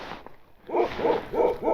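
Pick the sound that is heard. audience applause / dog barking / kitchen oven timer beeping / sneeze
dog barking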